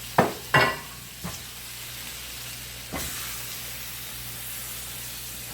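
Buffalo chicken meatballs cook in a pan with a steady low sizzle throughout, marked by a couple of sharp clattering stirs near the start and a softer scrape around the middle.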